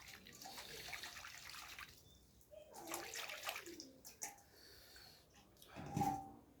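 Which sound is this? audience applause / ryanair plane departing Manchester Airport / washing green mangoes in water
washing green mangoes in water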